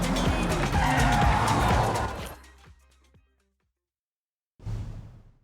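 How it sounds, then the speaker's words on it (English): A car in the racing game Forza Horizon 6 brakes hard to a full stop, with a loud engine roar and tire squeal that fade out, then silence, then a brief burst of noise. "Bring your car to a full stop."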